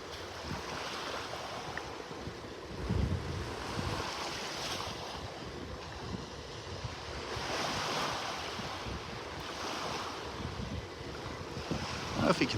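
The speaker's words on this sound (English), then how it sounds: "It's gonna have gusts today up to 18 miles an hour." Gusty onshore wind and breaking surf on a North Naples, Florida beach in the early morning, a steady wash of waves with rumbling wind buffets on the microphone swelling and easing throughout, no voices.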